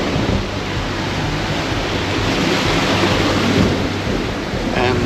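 Continuous rushing water and sea wash roar loudly and steadily, like waves churning against a sailing boat's hull, with heavy wind noise throughout.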